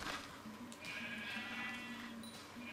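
Minecraft sheep bleat softly, a few wavering nasal calls repeating over faint game background noise.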